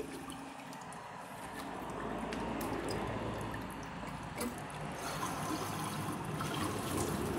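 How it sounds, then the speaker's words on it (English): Water runs into a toilet bowl during a Kohler Class 5 versus Toto Drake flush comparison, a continuous close pouring rush that swells slightly partway through and holds steady. "Gotta let a little bit of water into the bowl for this first test."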